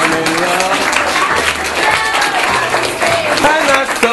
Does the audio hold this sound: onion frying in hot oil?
no